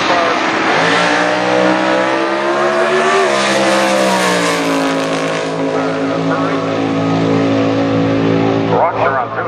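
Race car launching at a drag strip, a loud engine roar that rises in pitch, dips as it shifts, then climbs again and fades into the distance, with a commentator talking over it.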